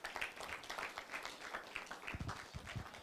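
An audience claps after a keynote talk on beauty and body image, a faint scattered patter of hands with uneven rhythm, fairly distant and quiet.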